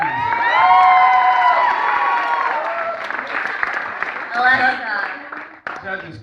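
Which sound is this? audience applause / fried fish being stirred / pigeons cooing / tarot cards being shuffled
audience applause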